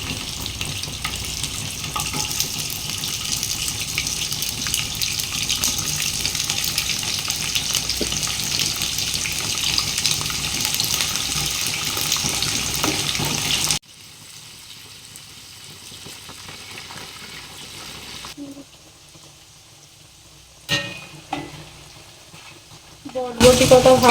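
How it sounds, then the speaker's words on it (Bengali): Yardlong beans fry in oil in a wok with a loud, steady hiss for the first half. The hiss then drops to quieter bubbling, with a few clinks and stirring noises near the end. "একে একে আমি সব সবজিগুলো ভেজে নেব।"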